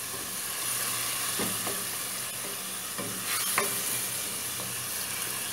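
Chopped onion softening in a hot pan with garlic, giving a steady, close sizzle and hiss with a few soft scrapes of stirring, alone without voices.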